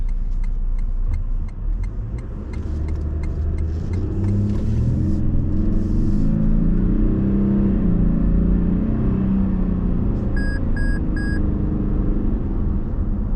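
A 2021 Toyota Land Cruiser 300 Series accelerates with a steady low engine rumble and road noise heard from inside the cabin, with a few soft electronic beeps near the end.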